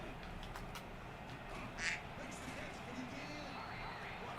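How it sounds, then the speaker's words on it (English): A single duck quack in the middle of faint background game noise and murmuring voices, in the video game EA Sports College Football 25. "Quack"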